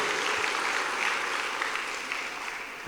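Church congregation at a Baptist communion service applauding steadily, a dense wash of clapping that holds even and full for a few seconds, slowly easing off at the end.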